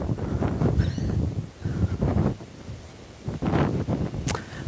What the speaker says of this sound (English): it's a bit windy down here